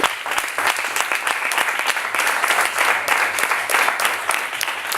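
A church congregation bursts into strong, steady applause during a Spanish-language service, dense clapping from many hands filling the room for several seconds with no voices over it.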